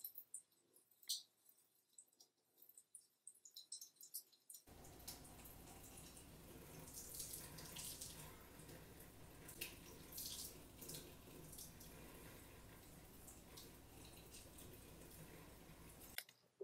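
A kitchen tap is lifted and water starts running, turning scattered faint clicks and drips into a steady, full rushing splash into the sink that continues until it abruptly stops near the end.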